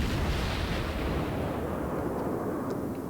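Distant naval gunfire in a video game booms over mountains, a dense low rumbling roar of artillery blasts blending into a continuous heavy wash that slowly fades, with faint higher pops near the end.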